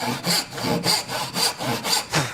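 A hand saw cuts wood along a gauge line for a tenon, held at an angle, with about seven steady rhythmic push-and-pull strokes, close and clear, and no talking.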